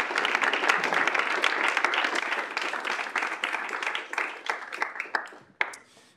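An audience applauds student government members of the week at a campus live-streamed gathering: steady, dense clapping that stays loud throughout before thinning out and fading in the last second.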